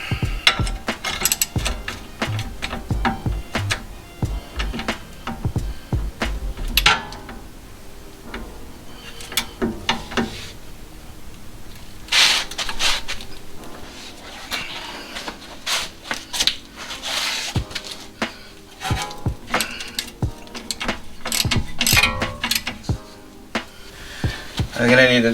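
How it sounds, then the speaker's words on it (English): A ratchet turning an 18mm socket while lowering a BMW gives off bursts of clicking and grinding, stopping and starting over about 25 seconds, with a person talking at times. "So I'm gonna use the 18mm socket."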